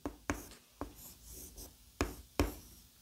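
A Chinese character is handwritten stroke by stroke, giving faint scratchy pen or brush strokes with several sharp taps as strokes begin, recorded close and quiet in a calm room.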